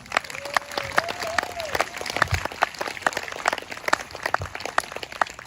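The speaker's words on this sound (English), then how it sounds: "can you also help give a clap for our Staff Sergeant Jason Williams?" Concert audience at a US Air Force band performance claps for a staff sergeant, steady scattered claps over a low crowd murmur, moderately distant.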